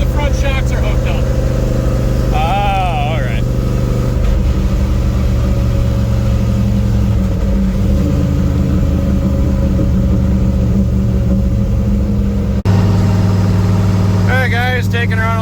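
A 1955 Ford gasser with both front shocks unhooked cruises along, its engine a steady low rumble throughout with a brief shift in pitch partway; a voice speaks briefly near the start and again near the end.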